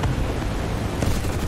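Continuous rumbling gunfire and explosions in the War Thunder combat game, dense and loud throughout with bursts of broadband impacts and no pauses.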